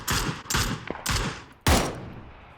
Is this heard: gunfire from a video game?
yes